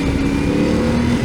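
Heavily loaded motorcycle carrying a passenger and luggage, riding steadily on a road in Portugal; a constant engine drone with a steady tonal hum throughout, loud and close, no speech.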